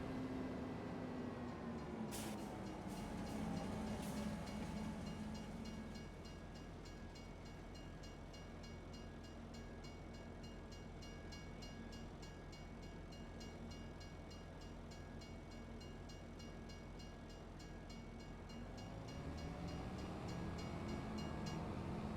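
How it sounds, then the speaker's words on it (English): A long train rolls steadily past in Farming Simulator 25, a continuous low rumble with faint high whistle-like tones, swelling at the start and again near the end as it clears. "Oh, we gotta wait for the train."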